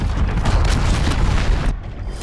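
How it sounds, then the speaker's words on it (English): An enemy cruise missile strike in Call of Duty: Modern Warfare lands as a loud, deep, rumbling boom that rolls on for about two seconds before falling away. "Enemy cruise missile, take cover!"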